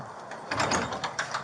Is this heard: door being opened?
yes